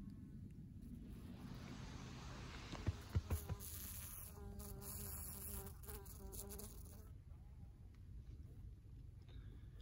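Honeybees on cleansing flights buzz around the hives of a bee yard on a warm day, a continuous faint hum of many wings with individual bees droning close past the microphone.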